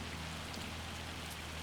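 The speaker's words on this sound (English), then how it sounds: "oh, it is hammering it down, so let's jump back into the tractor out of the rain" Heavy rain in Farming Simulator 25 hisses as a dense, steady downpour drumming on surfaces, loud and unbroken throughout with no speech.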